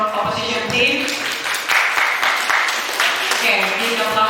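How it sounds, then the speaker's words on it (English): An audience at a school English debate competition applauds with brisk, crowded clapping from start to finish, fairly close and lively, with a few louder bursts. "Okay, big applause please."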